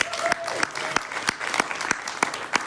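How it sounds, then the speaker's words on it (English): A congregation at a spiritual community gathering applauds for a few seconds, with a dense spread of clapping and a few sharp claps standing out in a steady rhythm, close and moderately loud. "give them another round of applause"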